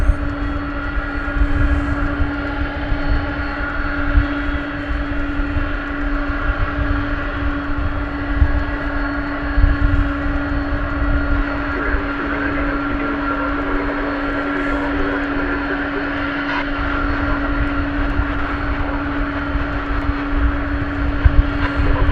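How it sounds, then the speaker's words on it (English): An MD-11 airliner flying at DFW Airport gives a steady, continuous engine roar with a droning tonal hum, fairly loud and unbroken throughout, with no voices. "flight of an MD-11"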